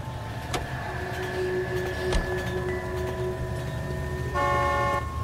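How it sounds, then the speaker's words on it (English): In the video game L.A. Noire, a car horn honks over a steady street and engine hum, with a short sharp toot early and a clear sustained blast near the end. "don't you honk at me"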